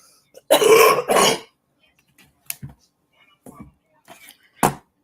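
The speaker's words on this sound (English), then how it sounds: "Yes, I'm still battling this cough." Two harsh, close coughs in quick succession, followed by a few faint clicks and small throat noises in an otherwise quiet room.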